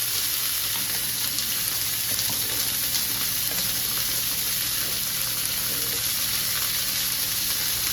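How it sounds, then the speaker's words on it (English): Beef burger patties sear in a hot pan with a steady, close, loud sizzle and crackle that holds even throughout, with no talking. "Now I'm just going to sear these burgers off."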